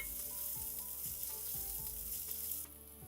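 Chopped onion frying with chilli powder, coriander-cumin powder and garam masala in a pan, a steady close sizzle broken by the repeated scrape of a spoon stirring, stopping abruptly near the end.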